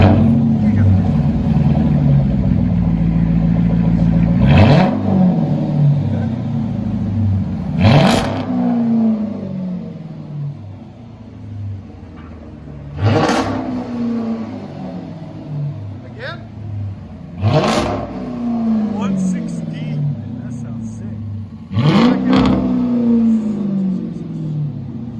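A Chrysler 300C's 5.7L HEMI V8 with an aftermarket exhaust revs loudly in repeated sharp blips about every three to five seconds, each dropping back to a deep, rumbling idle.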